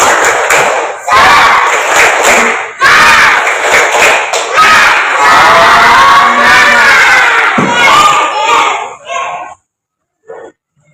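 A classroom of children performs a rhythmic clapping and shouting chant together, loud and close, with bursts of claps and group shouts over about nine seconds before it stops abruptly, followed by a brief quiet voice.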